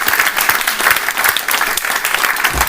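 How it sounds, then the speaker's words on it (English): A live event audience breaks into loud, sustained applause, dense clapping filling the room throughout with faint crowd murmur. "Round of applause for Melvin."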